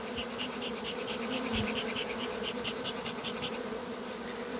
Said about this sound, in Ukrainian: заганяємо залишки рою